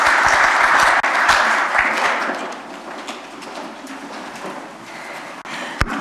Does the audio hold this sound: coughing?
no